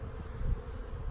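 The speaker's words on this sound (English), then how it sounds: "See some pretty fat bees though." Honey bees humming low and steady inside an opened beehive during a hive inspection, a dense, continuous buzz close by with no other sounds.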